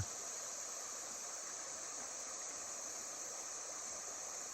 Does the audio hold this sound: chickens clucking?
no